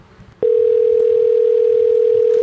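A telephone dial tone sounds while a call is placed to a sales lead: a single steady, loud electronic hum lasting about two seconds after a brief quiet start, then cut off.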